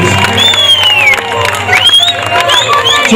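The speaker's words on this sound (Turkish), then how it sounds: "Kocaman bir alkış." Loud festival crowd at a highland summer fest in Turkey applauding and cheering, with whoops and shouts over dense, sustained clapping that swells briefly after a short dip.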